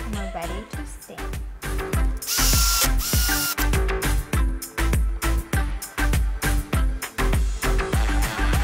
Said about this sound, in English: Okay, now I'm gonna drill, add the legs, flip it over, and we're ready to stand.